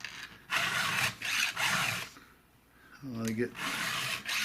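Hand file rasping on metal while shaping a saw's teeth and gullets, heard as three long, scratchy strokes with short pauses between them; someone speaks briefly in one gap.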